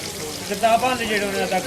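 Chicken karahi with tomatoes, green chillies and water simmering over low heat in a pan at a dhaba, giving a steady, moderately loud sizzle and bubbling throughout with no pauses.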